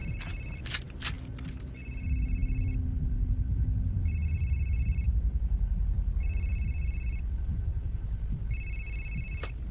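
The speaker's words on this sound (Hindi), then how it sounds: "किसका फोन बज रहा है?" A telephone rings in four evenly spaced, bright electronic bursts, fairly loud and close, after a few brief clicks at the start.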